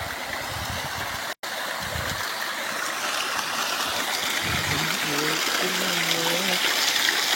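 Water pouring steadily from seven stone spouts of a warm spring at a shrine, a continuous rushing stream sound with voices talking over it and brief tonal calls near the end.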